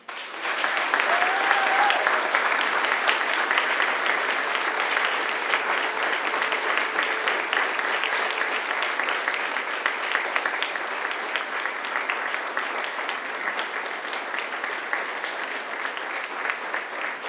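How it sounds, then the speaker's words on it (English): A large graduation ceremony audience delivers a long, steady round of applause, dense and even throughout with no let-up, heard from within the hall. "give them the mightiest round of applause"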